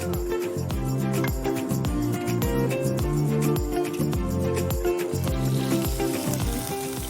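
Tilapia fish frying in hot oil in a kitchen, a loud steady sizzle with dense crackle and spatter running continuously, with rhythmic tonal music playing over it.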